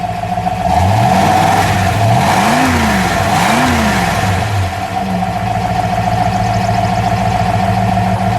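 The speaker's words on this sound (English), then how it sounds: "Just give a little rev, would you?" A 1966 Ford Mustang GT's 289 K-code V8 blips through two or three rising and falling revs before settling into a loud, steady idle. The engine sounds close, with no voices over it.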